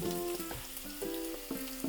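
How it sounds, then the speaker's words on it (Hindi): Finely chopped beans sizzling and frying in a pan for fried rice, a steady close crackling hiss with light spatter throughout, no voices. "आधा मिनट हो गया बीन्स को भूनते हुए।"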